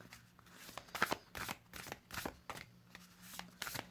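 Tarot cards are shuffled and drawn in a quiet room: a run of crisp, close riffling flicks and card snaps in uneven rhythm, soft and alone.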